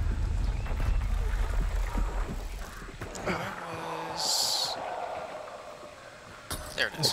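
Horse sounds in the video game Hunt: Showdown, heard intermittently beneath a dense, rumbling mix of game noise with a brief high burst midway.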